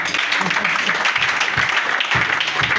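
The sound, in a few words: congregation applauding to acclaim Jesus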